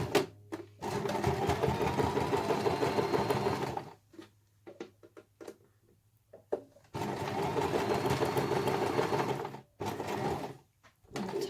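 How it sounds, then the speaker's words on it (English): Sewing machine stitching two sides of fleece fabric together, loud close mechanical whirring in two long runs separated by a quiet pause with small clicks and handling noises. "off we go, sewing the two sides together"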